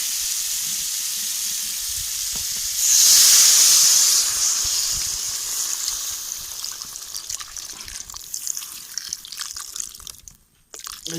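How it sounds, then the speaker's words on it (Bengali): Water poured into spices frying in hot oil in a pan bursts into a loud hiss and sizzle, then settles into a softer, crackling simmer that fades near the end. "এখন আমরা জল দিয়ে দেবো হালকা করে, দিয়ে তারপরে ঢেকে দেবো"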